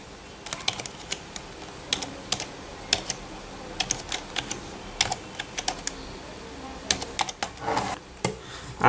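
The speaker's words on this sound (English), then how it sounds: "I'm just using my keyboard, which is actually a PC keyboard, to type on Samsung Galaxy Note 2." Typing on a PC keyboard hooked up to a Samsung Galaxy Note 2 phone: close, crisp irregular key clicks in quick bursts with short pauses, no voices.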